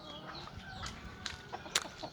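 Wild jungle fowl clucking softly in short scattered calls, with a couple of sharper squawks toward the end, heard at a moderate distance over a quiet outdoor background.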